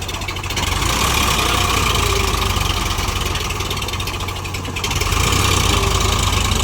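Eicher 551 4WD tractor engine labouring while stuck in deep mud, a loud continuous diesel rumble with steady throbbing, revving slightly higher toward the end, close and alone.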